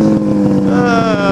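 Ski-Doo MXZ 700 snowmobile engine exhaust, a loud, steady droning roar with a rising, revving buzz near the end, heard up close with wind buffeting the microphone.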